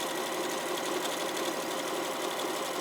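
An Elna 720 PRO sewing machine stitches with a twin needle, producing a steady, fast, close mechanical whirr with rapid rhythmic needle ticking and no voices.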